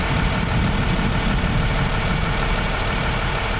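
Truck chassis engine running steadily, a loud continuous low rumbling drone that stays even throughout with no talk.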